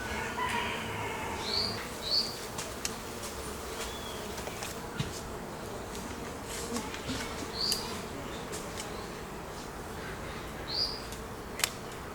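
Bees buzz in a soft, continuous drone at a hive entrance in cold weather, with a few faint bird chirps and small clicks scattered through.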